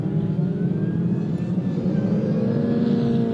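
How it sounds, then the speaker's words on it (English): Supercharged 1600cc BMW Mini rallycross cars race at a BTRDA Rallycross Championship round, with a continuous droning, whining engine note held steady from mid-distance and a brief high blip partway through. "These identical 1600cc supercharged BMW Minis."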